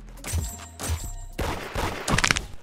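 Gunshots in the online game Da Hood, several sharp cracks and thuds in quick uneven succession, close and fairly loud with no voices over them.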